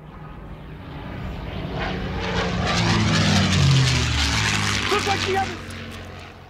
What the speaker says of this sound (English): Sounds like planes.